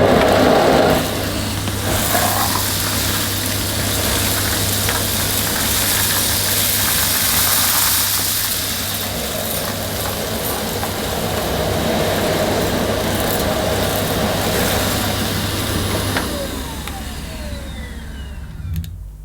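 A Beko Airgate Pets bagless vacuum cleaner running continuously on plush pile carpet, a loud steady motor whine and airflow roar with slight shifts as it is pushed back and forth, winding down at the end.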